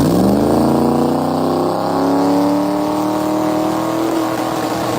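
A car engine revs hard and climbs in pitch, a loud, sustained roar held at high revs, close by with no talking, at an engine-lab challenge event.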